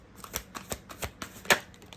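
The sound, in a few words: tarot cards being drawn from a deck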